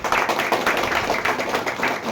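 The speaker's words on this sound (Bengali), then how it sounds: "জোরে হাততালি হোক।" A crowd claps steadily and loudly at a mobile-repairing batch ending ceremony, dense hand claps running together without pause and no voices above them.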